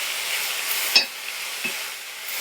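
Fenugreek leaves sautéing in a hot oil tempering for a palya give a steady, close sizzle, broken by a couple of brief stirring clicks and scrapes.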